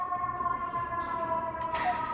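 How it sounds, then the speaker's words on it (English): A faint siren wails steadily in the distance, its tone holding level under quiet background noise. "So funny with the siren in the back."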